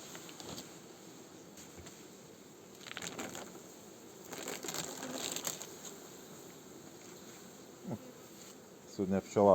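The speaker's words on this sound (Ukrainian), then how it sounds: "Оса вдома сидить." Faint, intermittent buzzing of a wasp at a beehive comes in short bursts against a quiet background, with a few soft handling clicks and clatters near the end.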